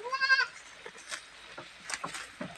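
Goats eating fresh fodder in a mountain pen, one loud near bleat at the start, then soft chewing and rustling with a fainter bleat near the end.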